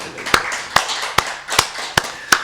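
Congregation clapping in rhythm during a Korean church worship service, six sharp, evenly spaced claps standing out over a quiet room, fairly close and moderately loud.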